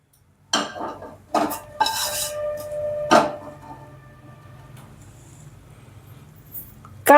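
A kadhai (wok) being handled on a gas stove: a few loud metallic clanks and scrapes of pot and utensils, followed by quieter rattling, all close and with no talk.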